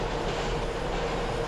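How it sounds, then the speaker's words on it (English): R168 subway car running in the TWS train simulator game, a steady loud rumble of wheels and motors heard as if from outside the train, continuous with faint rhythmic rail clatter and no talking. "the train is still pretty loud"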